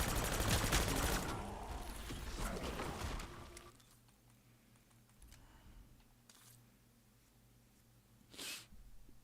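Black Ops 6 Zombies gunfire: a dense, loud burst of shots over the first few seconds, then quieter game ambience with a single isolated impact near the end.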